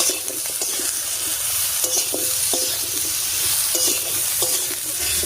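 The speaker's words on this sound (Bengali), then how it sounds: "হলুদ লবণ দিয়ে খুব ভালো করে মিশিয়ে নিয়েছি" Vegetables stirred in a hot pan with salt and turmeric, a steady sizzle broken by clustered scraping and clinking of a spatula against the pan, close and fairly loud, no voices.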